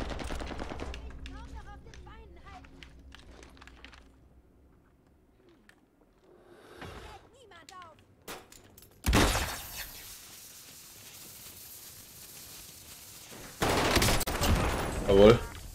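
Gunfire in the video game Call of Duty Warzone: sparse single shots and short bursts early, then sustained loud automatic fire in two long stretches, heard alongside occasional game sounds and without clear speech.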